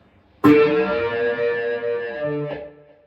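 A sustained electric guitar chord through a Uni-Vibe pedal with a swirling, throbbing modulation effect, ringing for about two seconds before a second chord and fading decay.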